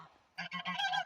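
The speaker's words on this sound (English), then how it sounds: "Geese!" Geese honking in a short burst of loud, overlapping calls that start after a moment of near silence and build in a rapid cluster close by.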